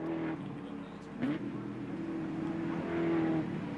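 V8 ute race cars run through the last corners at Hidden Valley, a steady engine drone rising and falling as cars pass and accelerate, heard mid-distance under continuous race commentary.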